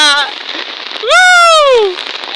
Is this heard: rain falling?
yes